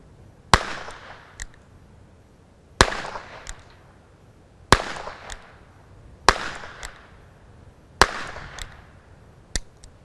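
A Hopkins & Allen Bulldog revolver over a hundred years old fires five shots outdoors, each a sharp loud crack with a short echo, spaced roughly two seconds apart, with no talk.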